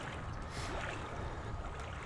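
Water sloshing and splashing steadily as a character wades through it in the horror video game Outlast, a continuous broadband wash without pauses.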